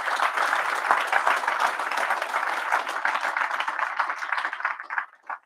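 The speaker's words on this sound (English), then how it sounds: "Give them a round of applause as well." An audience claps steadily for several seconds, a dense even patter that thins out and fades at the end.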